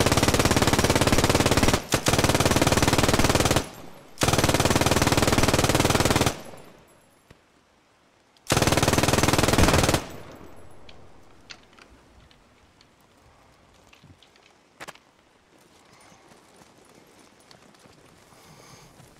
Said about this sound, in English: this machine gun